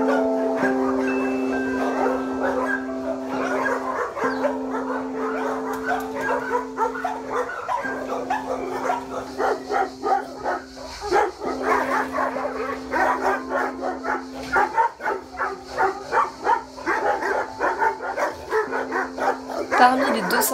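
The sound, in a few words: dogs barking in shelter cages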